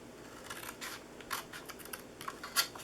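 Scissors cut through paper card for a DIY gingerbread man treat box, giving a series of crisp snips and slicing rasps at an uneven pace, close and fairly quiet with no talking.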